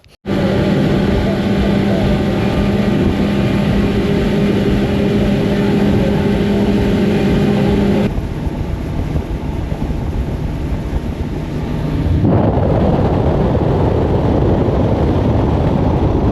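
A motorboat setting off on the Dniester for pike fishing, its engine droning loud and steady, then shifting tone twice as it gets under way, with wind noise on the microphone.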